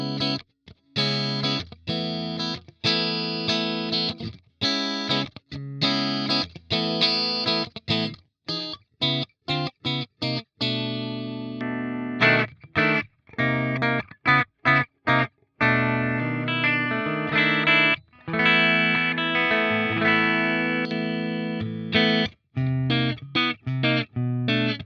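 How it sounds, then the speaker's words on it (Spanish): An electric guitar plays through a Fractal FM3 modelling a Mesa Boogie JP-2C clean amp with cabinet simulation: loud, bright, sustained chords and single notes in rhythmic phrases cut by short gaps. "Acá está solamente el amplificador con, obviamente, la simulación de caja"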